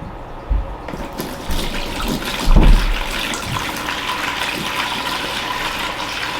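Water is poured into a bonsai pot tank, a continuous close gushing splash that starts after a second and runs steadily to the end, with a few low knocks early on.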